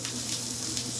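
Onions and zucchini frying in a pan, a steady close hiss and sizzle that carries evenly through the whole short moment, with no voices.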